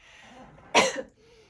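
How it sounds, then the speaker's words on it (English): A single short cough or throat clear, sharp and close, lasting a fraction of a second amid quiet room tone. "we have to clear our throats a little bit more"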